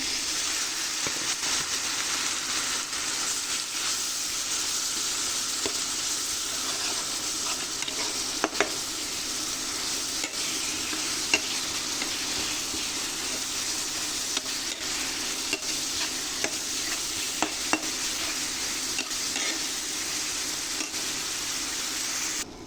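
Steady, continuous sizzle of a wet spice paste of ginger, garlic and green chilli with a little water frying in a pan, with occasional faint scrapes, close and moderately loud, no voices.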